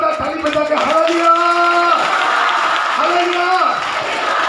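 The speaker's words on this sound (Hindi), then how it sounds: "जोरदार ताली बजा के हालेलुया" Loud, sustained clapping from a church congregation at a Hindi Bible study, with a voice singing or chanting over the applause throughout.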